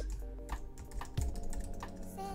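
Typing on a computer keyboard while setting up a Keyboard Maestro text expansion, a short run of close, irregular key clicks over a steady background hum with no talking.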